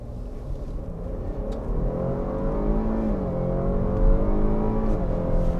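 A 2020 Cadillac XT6 SUV in all-wheel-drive sport mode with traction control off, launched hard from a standstill, heard from inside as a steady engine drone that rises and builds in loudness, with no talk.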